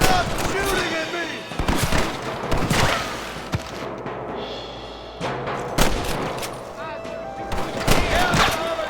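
A Red Dead Redemption shootout with repeated gunshots cracking over one another, some close and loud, others farther off, while voices shout amid the firing.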